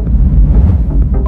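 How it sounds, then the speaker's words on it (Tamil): A short, dense whooshing swell of reversed cymbal and snare, rising and rushing for just over a second with no voices. "reverse symbol, reverse ஸ்னார்"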